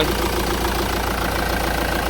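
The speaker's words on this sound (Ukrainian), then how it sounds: "Моторчик працює тихенько, рівномірно." A 2004 Ford Transit 2.4 TDi diesel idles up close, producing a loud, even rumble with a steady rhythmic knock and no voices over it.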